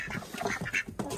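Ducks quack in a busy, overlapping chatter, several nasal calls close together and near.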